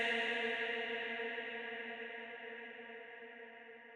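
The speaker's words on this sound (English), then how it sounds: "As soon as the vocal starts playing and we get the reverb tail" A sustained, washy vocal reverb tail in Ableton Live fades slowly over several seconds, rich and ringing with no new singing on top.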